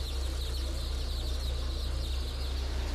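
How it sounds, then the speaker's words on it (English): Chicks in a hatchery cheep continuously as they ride a moving sorting conveyor, a dense chorus of thin peeps over a loud, steady mechanical drone of the machinery. "Chicks are roughly dumped onto moving conveyor belts, which haul them off to be sorted, debeaked, and for the males, killed."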